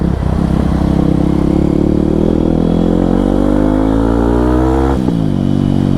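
A Kawasaki KLX 230 motorcycle engine drones loud and close while riding, its pitch climbing steadily as it revs up and then dropping abruptly near the end, with no talk.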